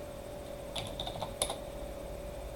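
A message typed on a computer keyboard: a brief cluster of light, close key clicks over a steady electronic hum, with no speech.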